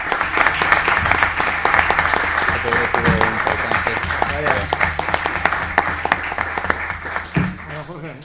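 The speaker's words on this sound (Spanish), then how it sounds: "un aplauso a Ignacio Bueno" Ceremony audience applauding for Ignacio at a gift presentation, steady dense clapping filling the room for about seven seconds, with a voice speaking briefly through it before it tapers off.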